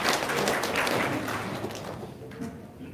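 Audience applause at a gathering, a dense wash of clapping that starts full and gradually thins and fades over a few seconds.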